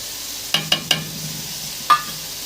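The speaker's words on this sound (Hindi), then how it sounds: "मैं मुसलसल चम्मच हिलाते जाऊंगी, वरना मसाला नीचे लगेगा" Masala and green chillies fry in a pan as a spoon stirs them, three quick close clinks against the metal, a pause, then one louder knock over a faint continuous sizzle.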